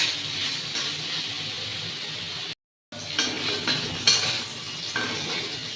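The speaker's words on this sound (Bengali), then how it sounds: "এখানে পালং শাক দিয়ে বসিয়ে দিয়েছি, 5 ফোড়ন আর একটা শুকনো লঙ্কা দিলাম" Spinach frying in a pan with five-spice tempering and a dried chili, giving a steady close sizzle and hiss with stirring scrapes and clinks. The sound breaks off briefly for a moment before the sizzling resumes.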